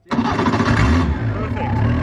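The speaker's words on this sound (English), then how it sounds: "So start your engine." A car engine is started with the clutch pressed. It catches abruptly and settles into a loud, close, steady running rumble, with voices nearby.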